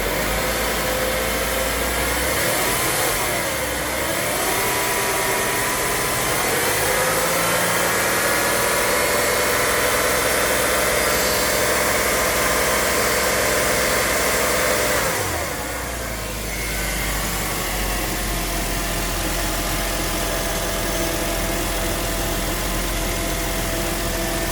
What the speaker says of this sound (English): give it a little gas here while keeping the camera on the front of the motor here